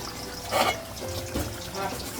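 Water is poured into meat cooking in a pan in a home kitchen, giving a brief splashing gush followed by a gentle bubbling trickle. A voice is faintly present.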